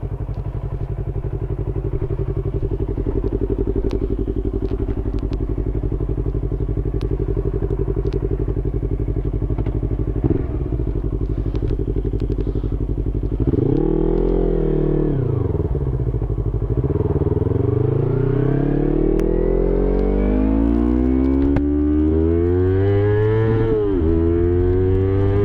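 A Yamaha YZF-R25 motorcycle engine revving hard to redline, holding a steady loud drone before pitch swoops up and drops with each gear shift, climbing repeatedly toward the end.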